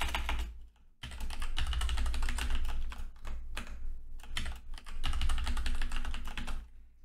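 A password is typed on a computer keyboard in close, rapid bursts of clicking keystrokes, with brief pauses between runs of keys.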